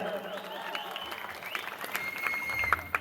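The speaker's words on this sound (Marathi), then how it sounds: "एकदा टाळ्या वाजा जोरदार टाळ्या" An audience at a village comedy game show applauds two contestants with moderate, continuous clapping, with a faint background voice and a couple of sharper claps near the end.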